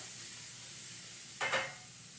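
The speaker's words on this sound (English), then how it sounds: "Stir it around with a wooden spoon here." Onions caramelizing in a pan while a wooden spoon pushes them around: a faint, even sizzle, then one brief louder scrape-and-hiss burst from stirring, with no voices.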